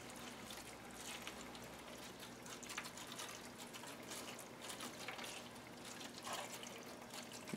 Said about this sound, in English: And I'm going to fill up this bottom one with water.